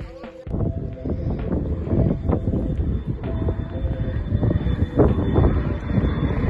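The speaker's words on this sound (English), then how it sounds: "It's an overhead airplane." An airplane passes overhead during an outdoor sumo event on the sand, producing a steady broad rumbling roar with scattered knocks and voices in the background.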